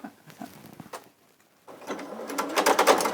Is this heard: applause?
no